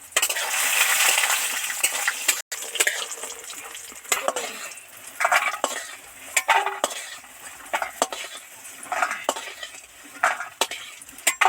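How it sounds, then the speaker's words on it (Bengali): Lentil dumplings (bori) frying in oil in a pan while being stirred, a steady sizzle under repeated scraping and clinking of a utensil against the pan, close and fairly loud with no talking. "বড়িগুলোকে এইভাবে ভেজে নেবো, এইভাবে ভাজলে তবেই টেস্টফুল হয়।"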